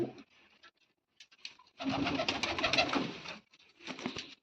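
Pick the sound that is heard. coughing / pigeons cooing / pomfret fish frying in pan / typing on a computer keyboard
pigeons cooing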